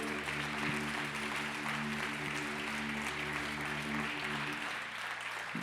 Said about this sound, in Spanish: Dale un fuerte aplauso al Señor, amado.